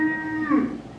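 A recorded cow lets out a single long, low moo, loud and close, rising into a rougher bellow partway through before fading out, with no one talking.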